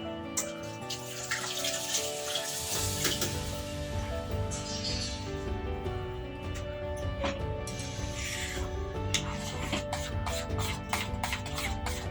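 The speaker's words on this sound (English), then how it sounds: "go and wash my hand" A kitchen tap runs steadily as hands are washed during baking of sweet orange bread and pancakes. The even rushing stream plays under background music throughout.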